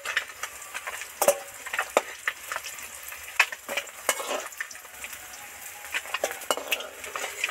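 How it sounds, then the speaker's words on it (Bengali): Bata fish deep frying in oil in a Bengali kitchen, a close, steady bubbling sizzle broken by frequent clinks and scrapes of a metal utensil against the pan, with no voices. "মাছগুলো তো সব ধরে ধরে ডিপ ফ্রাই করে ভেজে নিলাম।"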